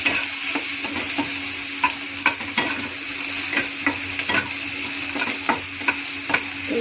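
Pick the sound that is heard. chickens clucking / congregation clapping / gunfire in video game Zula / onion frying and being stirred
onion frying and being stirred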